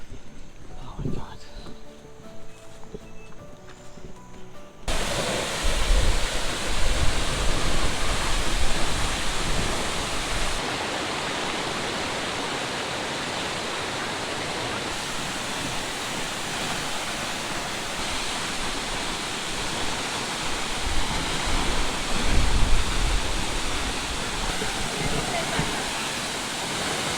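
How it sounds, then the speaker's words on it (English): A waterfall in the Colombian jungle on the Lost City trek, a loud continuous rushing roar of falling water that starts abruptly after a quieter opening and stays steady to the end. "Waterfall."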